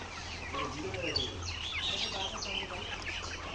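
Several 78-day-old layer hens cluck and chatter close by on a farm, overlapping calls over a low steady background hum.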